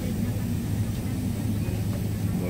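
Inside an airplane cabin during boarding on a flight from Manila, a steady low engine and ventilation roar fills the space with broadband hiss, close and continuous, with faint voices.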